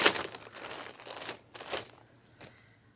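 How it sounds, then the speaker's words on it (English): A plastic bag used to hold oracle cards crinkles and rustles up close in several bursts, then fades to quieter handling. "I keep my cards in this plastic bag."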